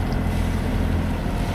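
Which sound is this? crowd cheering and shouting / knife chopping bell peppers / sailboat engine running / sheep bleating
sailboat engine running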